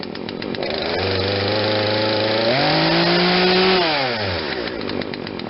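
A carb-tuned Poulan Wild Thing 40cc two-stroke chainsaw with an 18-inch bar runs close and loud, its engine whine climbing to high speed, holding, then dropping back down.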